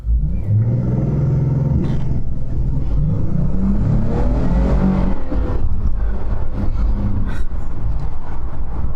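A Dodge Charger GT launches hard under launch control, its engine roaring up through rising revs with a gear change midway and then pulling strongly onward, loud and close without any talk.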